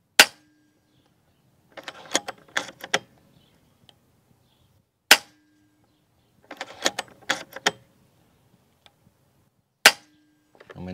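Three sharp cracks from an FX air gun fired through a chronograph, evenly spaced about five seconds apart, each followed by a short faint patter of clicks and rattles, close and loud against silence.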